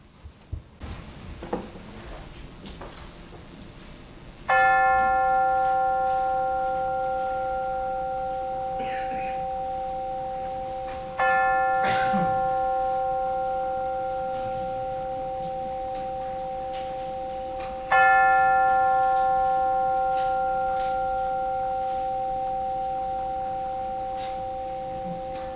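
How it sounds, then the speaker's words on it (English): Three struck chime tones ring out during a church service, each a clear, sustained note with a long fading decay, spaced several seconds apart over quiet room noise. "let us center our hearts and minds with the ringing of the chimes"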